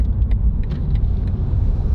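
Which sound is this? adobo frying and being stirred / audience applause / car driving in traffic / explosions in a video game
car driving in traffic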